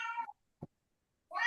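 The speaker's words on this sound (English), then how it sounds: "Somebody's cat. Is pissed off." Annoyed cat meowing, two loud close drawn-out meows separated by a short pause, with a faint low sound in between.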